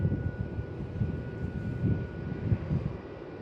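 A jet airliner's engines roar steadily at Melbourne Airport as it takes off toward the south, a low, broad rumble with wind buffeting the microphone and no voices.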